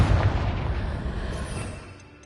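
A Confringo explosion spell cast in Hogwarts Legacy lands as a deep, loud boom right at the start, then rumbles and decays over about two seconds with no talking over it.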